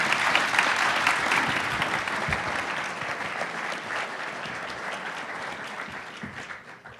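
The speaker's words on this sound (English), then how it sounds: "Please show them a round of applause." Sustained applause fills the room after a panel discussion on climate-smart innovation, a broad even wash of many hands that tapers off toward the end.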